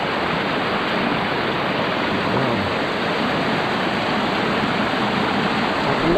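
Water rushes steadily at the irrigation source feeding rice fields, a loud, close, unbroken broadband roar with no voices audible.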